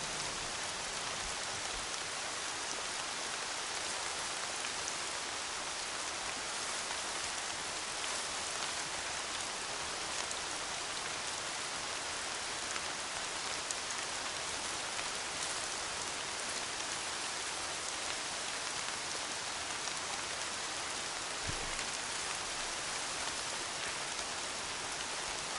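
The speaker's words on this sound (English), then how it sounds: "More rain." Steady, even rain hissing throughout a rainy scene in the Horizon video game, continuous and unbroken with no voices.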